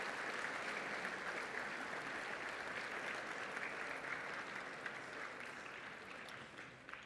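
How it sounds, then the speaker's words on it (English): Applause from a school assembly crowd at a Catholic college, a steady, fairly distant wash of clapping that holds evenly for several seconds and slowly thins toward the end. "Please give a round of applause to our Year 7 CSDA debating representatives."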